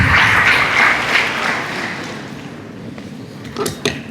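At a legal awareness event, an audience claps in welcome for the first speaker, a dense burst of applause that gradually thins and fades, ending with a few scattered knocks.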